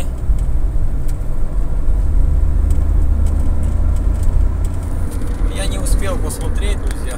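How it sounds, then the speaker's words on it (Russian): A turbocharged car engine runs at full throttle in fourth gear from about 1500 rpm, a loud, continuous low rumble that builds steadily, with a voice over it. "включаю четвертую. И у нас 1500, нажимаю газ в пол."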